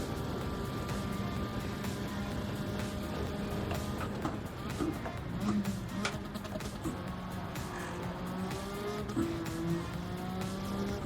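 A Lexus race car in the Gran Turismo video game drones steadily throughout, its engine note shifting through gear changes, with brief tire squeals and faint game effects layered over the constant roar.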